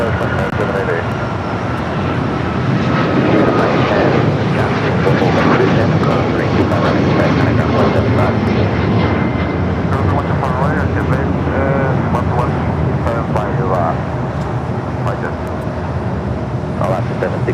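Alaska Airlines jet at LAX on runway 25 left, a steady broadband engine roar holding loud and close throughout with a faint traffic-like hum underneath.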